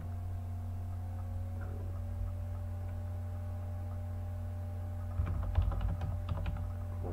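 Keys clatter on a computer keyboard while text is typed into Microsoft Word, a quick close burst of clicks near the end after a long stretch of steady electrical hum.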